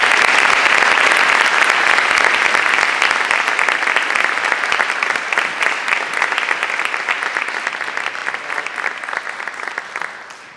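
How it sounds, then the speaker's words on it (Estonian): A school audience at an assembly claps in sustained, dense applause, loud and steady at first and gradually thinning and fading toward the end. "milline Helmer Jõgi välja näeb, nii et teeme aplausi ja Helmer Jõgi siis näitab ennast ka."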